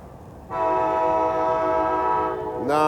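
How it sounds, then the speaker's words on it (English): A loud, sustained train horn blast holds steady for about two seconds, then a second horn note rises sharply at the end. "There's the train making noise"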